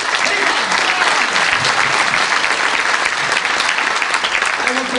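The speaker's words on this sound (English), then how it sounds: "I would like to make an applause for yourself first." Steady, dense applause from a large audience fills a seminar auditorium, loud and continuous throughout with no break, many hands clapping at once and a faint murmur of voices beneath.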